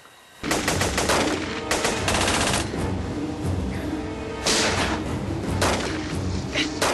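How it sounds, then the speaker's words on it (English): Sustained gunfire from a shootout in the 1992 action movie Angel of Fury, with dense bursts of automatic fire and scattered shots running continuously and loudly, swelling in several heavier volleys. "No, they have another shootout."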